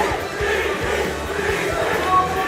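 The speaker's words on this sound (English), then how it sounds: "This crowd is alive." A packed crowd at a Super Smash Bros. Ultimate teams tournament roars and cheers in a loud, sustained, dense wall of voices, with no single speaker standing out.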